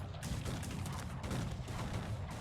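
Dense, continuous gunfire crackles and booms in a chaotic, distant-sounding battle in the video game Cossacks 3, with overlapping volleys and no clear voices.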